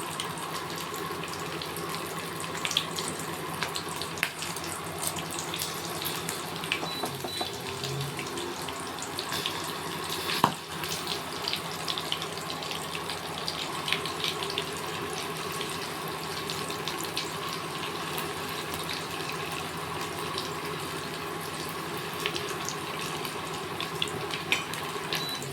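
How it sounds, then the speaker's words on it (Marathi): Green chillies fry in hot oil in the pan used for sabudana pakoda, giving a steady, even sizzling hiss that carries on without a break for the whole stretch. Nobody speaks. "यातच मिरची पण फ्राय करते मी."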